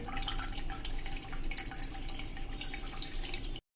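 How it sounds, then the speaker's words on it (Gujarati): Rapid, irregular drips and trickles of whey from squeezed yogurt fall close by, fairly quiet, then stop abruptly near the end. "આવી રીતે તમે નીચવી નાખશો ને એટલે એકદમ બધું પાણી નીકળી જશે"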